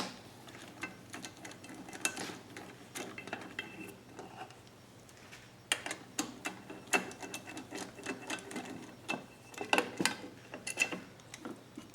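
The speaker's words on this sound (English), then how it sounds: "we'll take the other 3 valve cover bolts out" Valve cover bolts being removed from a GenMax GM9000iED generator, with faint metallic clicks, ticks and clinks of a wrench and loose bolts coming in irregular bursts, close up and quiet with no talking.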